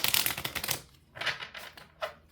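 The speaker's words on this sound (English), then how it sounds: "I'm going to give you 3 card shuffles." Crisp riffling of tarot cards being shuffled, a long flurry followed by two shorter bursts, close and fairly loud.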